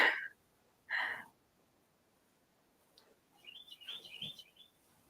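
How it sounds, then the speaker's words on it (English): Carolina wren singing outdoors, a couple of loud chirping notes early on, then a brighter warbling phrase further along, with quiet gaps between. "one of our fellow Carolina wrens that we have here"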